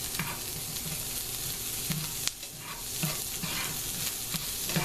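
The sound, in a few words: vegetables and stuffed shells cooking in a pan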